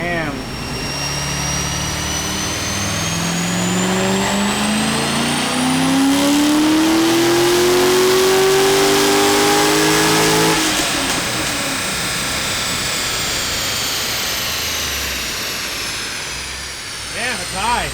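A C6 Corvette ZR1 engine revs loud and sustained, pitch climbing steadily then falling away as the clutch slips, with people talking faintly over it.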